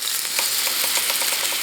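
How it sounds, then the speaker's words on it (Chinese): Batter water poured into a pan of pan-fried dumplings (shui jian bao) sets off a steady, close hiss of sizzling with faint crackling pops throughout. "放入我们调好的面糊水"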